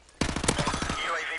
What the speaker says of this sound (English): I almost stopped shooting you because I thought I killed you